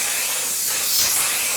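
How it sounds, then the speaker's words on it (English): Waterproof makeup setting spray bursts from the bottle close by in one continuous hissing mist that swells slightly midway, with no talking. "That is like hairspray."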